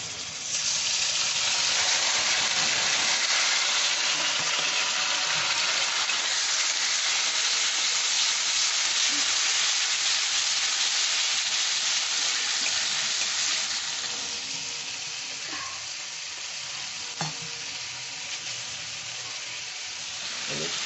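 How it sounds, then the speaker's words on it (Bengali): Salt, cumin, coriander and onion paste frying together in a pan for doi pabda, a loud steady hiss and sizzle with faint stirring that eases slightly toward the end. "সব মশলাগুলোই আমি একসাথে কষে নিচ্ছি।"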